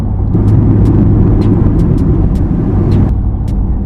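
A BMW i8 engine drones loud and low from inside the car, a steady rumble with faint ticking clicks throughout.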